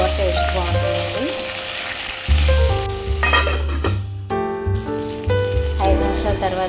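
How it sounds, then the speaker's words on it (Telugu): Brinjal pieces sizzle in a hot pan as they are stirred with salt, a steady crackling fry with scraping spoon strokes and faint clinks, close and continuous. "ముక్కలు వేసేసుకున్నాక కొద్దిగా ఉప్పు వేసుకొని కలుపుకొని మూత పెట్టేసుకోవాలి"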